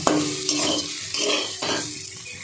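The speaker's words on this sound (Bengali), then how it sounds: "এটাও লাল লাল করে ভাজতে হবে সয়াবিনটা" Soybean chunks fry in hot oil in a pan while a spatula stirs them for a vegetarian jackfruit-soybean curry, with sharp scraping strokes about every half second over a continuous close sizzle.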